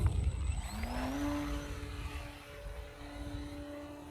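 A HobbyZone Carbon Cub S 2 RC airplane, 1.3 m wingspan, flies overhead at full throttle with a buzzing electric motor drone whose pitch sweeps as it passes, moderately distant and steady.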